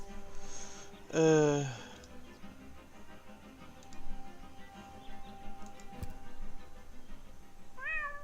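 In the video game Deponia, a cat gives one loud, drawn-out meow, followed later by a fainter, short mew near the end, over a quiet ambient background with soft ticking.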